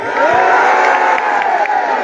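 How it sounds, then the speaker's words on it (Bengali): Crowd at a village football match in Bangladesh, a dense, continuous wash of cheering and applause that stays loud and steady throughout, with a sustained tonal whistle-like sound riding over it. "আরে সিরারগাঁও সরকারের কোথায় একটা করতালি চাই"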